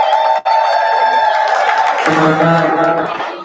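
Crowd at a live culture and arts event cheering, whooping and clapping loudly and steadily throughout, with music or voices mixed into the dense roar.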